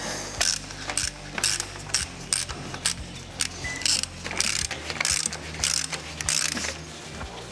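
Hand ratchet clicking in repeated bursts as brake caliper bolts are tightened on a Ford F250 6.7L Powerstroke during a brake install, close and loud with short pauses between strokes.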